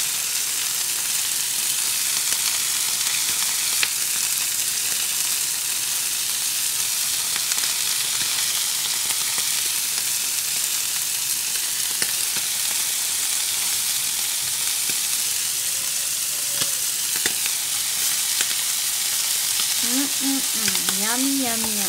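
Fish fries in a pan with sauce being basted over it, a loud, steady sizzle throughout, with a brief voice near the end.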